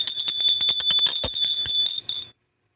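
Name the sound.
bell being rung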